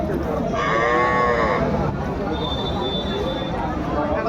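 Cattle at a Bangladeshi livestock market, a cow with her grown calf, give a drawn-out moo amid steady crowd babble and nearby talking voices.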